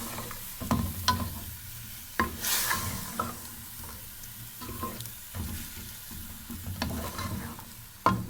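Beef karahi with yogurt sizzling and frying in a pan, with repeated stirring scrapes and clatters over a steady bubbling hiss, close and moderately loud.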